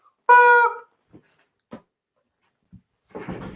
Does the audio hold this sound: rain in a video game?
no